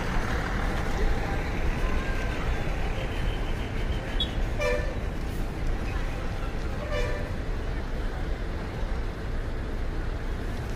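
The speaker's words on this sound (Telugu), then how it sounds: "ఇక్కడ వెళ్తున్న బస్సు తొర్రూరు డిపో," A TSRTC Torrur-depot bus passes through Hanamkonda bus stand in Telangana amid constant traffic rumble, with two short horn toots sounding in the middle and a voice speaking over the noise.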